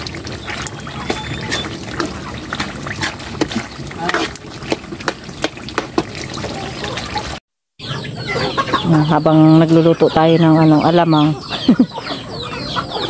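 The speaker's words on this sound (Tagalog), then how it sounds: "Oras na ng pakain sa mga manok." Hens cluck and squawk close by, loudest in the second half, after a stretch of a person talking over background noise.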